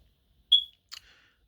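A household smoke detector gives one short, high electronic chirp in a quiet room, followed a moment later by a faint brief rustle.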